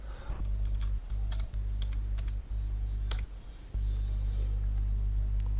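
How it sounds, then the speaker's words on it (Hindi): Keys on a computer keyboard are pressed for a Shift plus Space shortcut: a handful of sparse, crisp clicks over a steady low electrical hum. "तो इसके लिए हम क्लिक करेंगे शिफ्ट प्लस स्पेस"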